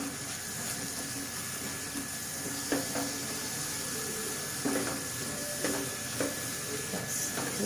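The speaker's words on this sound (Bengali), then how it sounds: "গ্যাসটা কমিয়ে কমিয়ে মশলাটাকে কষবো, নাহলে মশলাটা তলায় ধরে যেতে পারে।" Masala for chicken curry being sautéed in a pan on low gas, heard as a soft steady hiss with occasional light scrapes and taps of a spoon against the pan.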